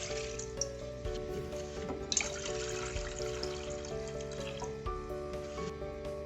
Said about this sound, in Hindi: 2 कप पानी डाल रही हूँ।